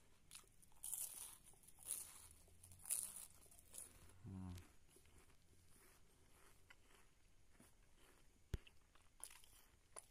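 Biting and chewing a crunchy Stichu chocolate wafer roll gives soft crunches and crinkling up close, strongest in the first few seconds and then fading to faint chewing, with one sharp click later.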